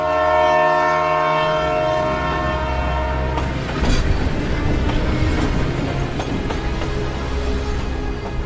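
A cartoon train sounds a long, loud horn as it starts to move, then rumbling wheels and rhythmic rail clatter take over and build steadily.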